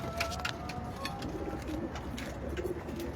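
Pigeons cooing at an open loft in the early morning, soft repeated coos with a few chirps over steady background noise.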